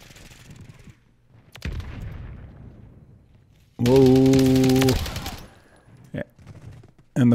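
STG-44 rifle in a video game firing a rapid, loud automatic burst of about a second, plus a few scattered single shots and distant booms, with quieter gaps between.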